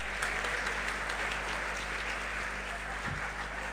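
Crowd applause at a religious sermon gathering, a steady, even wash of many hands clapping at a distance, holding without break under a constant background hum.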